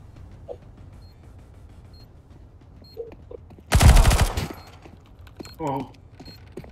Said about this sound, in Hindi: Oh, that's a machine gun.